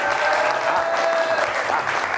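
Studio audience applauding on a television talk show set, a dense, loud, even burst of clapping throughout with no talk.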